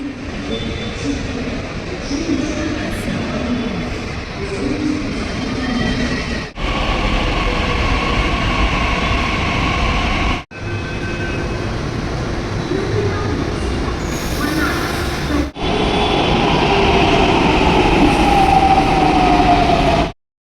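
Metro train at Deccan metro station in Pune, a loud sustained rumble of rolling cars with wheel squeal and high electric whine, in segments broken by brief cuts, with no talk over it.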